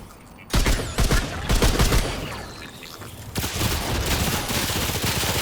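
Rapid SMG gunfire from the video game Remnant 2, loud close bursts of automatic fire, one short burst then a sustained stretch of shots with a brief lull between.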